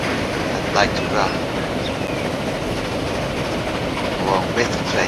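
Trains in the video game Transport Fever 2 rumble continuously with clattering wheels and faint squeals, a dense, loud rolling noise with no pauses.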